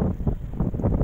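Strong wind buffets the microphone with a steady low rumble and gusty roar, no voices, in snowy weather.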